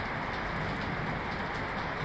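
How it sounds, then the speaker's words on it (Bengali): Heavy rain pouring in Kuala Lumpur, heard from a high-rise building as a dense, steady broadband roar of falling water with no breaks. "আকাশ থেকে বৃষ্টিগুলো পড়ছে, মনে হচ্ছে পানি ঢেলে দিচ্ছে।"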